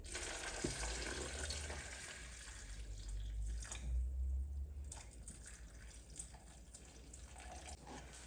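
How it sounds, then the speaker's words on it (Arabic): Water pours steadily into a blender jar to make a three-ingredient homemade juice, a continuous close splashing rush with a brief louder surge midway and no talking. "غنضيف الماء كيبقى على حساب واش بغيتو العصير يجيكم خاتر او يجي جاري شويه"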